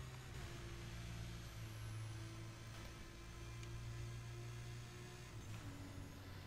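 Steady video game V8 car engine drone with a low hum and a few faint whooshes of passing vehicles, continuous and moderately loud throughout, with no talking, in Burnout Paradise.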